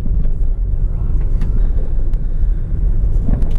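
A car rolls along a winding forest road in Sam Houston National Forest, giving a steady low rumble of engine and tyres with some wind buffeting and a few faint clicks, close and continuous.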